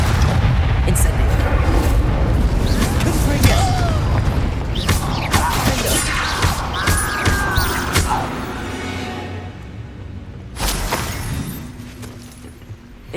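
Fiery Incendio spell blasts from Hogwarts Legacy burst out in a string of loud booms and crackling whooshes, layered with game effects and spoken voices.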